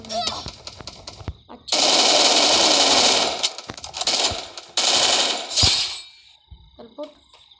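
Rapid automatic gunfire from a shooting video game comes in several long loud bursts separated by short pauses, with someone speaking briefly between them.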